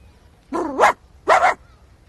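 A person imitates a dog, giving two short, loud, voiced barks close to the mic with a brief pause between them.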